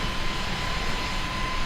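Easyjet Airbus A320neo taking off from Southend in Microsoft Flight Simulator 2020: a loud, steady jet engine roar with a faint high whine, continuous and unbroken, with no voices over it.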